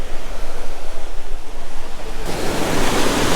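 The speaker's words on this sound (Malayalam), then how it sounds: "ഭയങ്കര ഫോഴ്സിലാണ് വെള്ളം വരുന്നത്. നല്ല ഫോഴ്സിലാണ്." Rushing water at the head of Thooval waterfall in Idukki, a steady loud roar of forceful flow with no voices.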